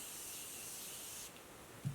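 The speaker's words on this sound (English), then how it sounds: "The setting spray. I'm going to set my face" Setting spray mists onto a face in a steady, close hiss for just over a second, then cuts off to near quiet with a faint soft bump at the end.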